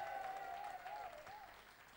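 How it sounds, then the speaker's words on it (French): Congregation applauding during a church service, a continuous soft patter of many hands clapping somewhat far off, with a sustained tonal voice or music line running over the crowd. "Applaudissez fort Jésus"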